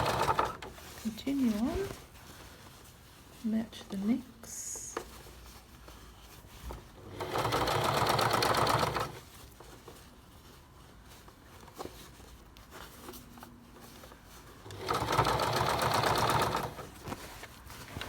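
A sewing machine stitches jacket seams in two loud bursts of rapid mechanical whirring, separated by quieter stretches where people talk.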